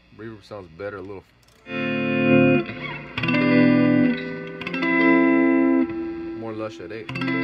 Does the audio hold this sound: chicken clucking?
no